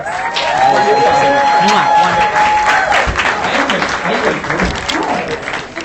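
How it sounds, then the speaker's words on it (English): Live audience applause after a Periscope broadcast, a dense sustained wash of clapping with some cheering mixed in, loud and close throughout, with voices chatting underneath. "Big round of applause once again."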